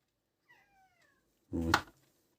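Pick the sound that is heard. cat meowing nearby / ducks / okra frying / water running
cat meowing nearby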